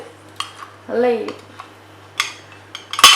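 A manual hand press juicer squeezes an orange with a creaking press and scattered metallic clicks and clacks, while a person talks.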